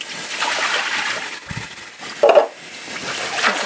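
Water splashes and sloshes while a container from a Sakura DRS 601 automatic slide stainer is rinsed out; the trickling is fairly quiet, with a brief louder splash midway.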